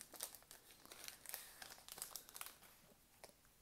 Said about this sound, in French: Donc ils sont pas ouf à ouvrir ces boosters.